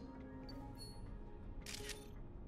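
A camera shutter fires while photographing Sharpedo in the video game New Pokémon Snap, a short bright click burst standing out over steady game background sound, with no talking.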